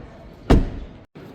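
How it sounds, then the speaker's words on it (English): The door of a 2026 BMW X1 M35i swings shut with one close, solid thud, followed by a brief moment of silence. "Let's shut this door, go to the driver's side next."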